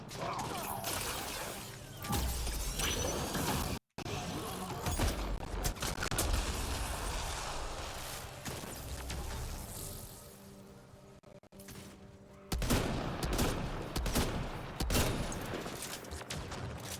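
Rapid video game gunfire from a player's weapon crackles in dense bursts with clattering mechanical sounds, loud and near, pausing briefly before resuming in heavy volleys.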